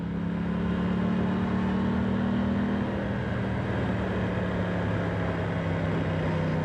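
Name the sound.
Aprilia Tuono 660 motorcycle engine riding in third gear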